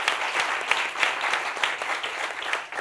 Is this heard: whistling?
no